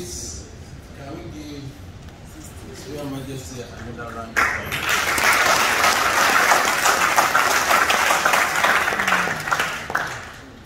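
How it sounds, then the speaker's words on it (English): An audience at a lecture bursts into loud, sustained applause after a few seconds of quieter voices, the clapping filling the space and tapering slightly at the end. "Can we give Your Majesty another round of applause?"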